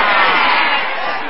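Loud, steady audience applause mixed with crowd noise for a stand-up comedian at an Indonesian comedy show, continuous and close throughout the short burst.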